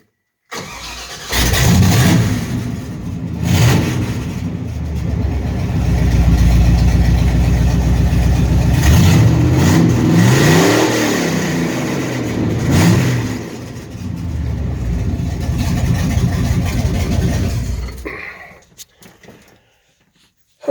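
A 357 small-block Chevy in a 1970 C20 pickup cranks and fires, then idles roughly and gets revved in a few loud swells before it shuts off, close up with no talking.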